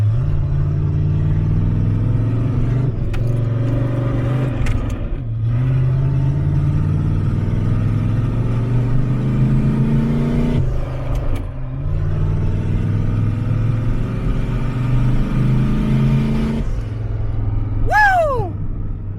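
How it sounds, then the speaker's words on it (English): A turbocharged small-block Chevy V8 in a Camaro running FiTech EFI rumbles with a deep, loud exhaust note, revving up in several surges over its idle. "Turbo small block Chevy."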